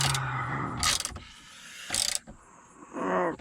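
Tightening a plastic gearshift assembly on a Hummer H2 gives three short bursts of ratcheting and clicking, close and distinct, separated by quieter gaps with faint handling noise.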